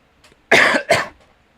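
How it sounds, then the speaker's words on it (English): Two quick, harsh coughs close to the microphone, one right after the other, then quiet. "sorry for coughing"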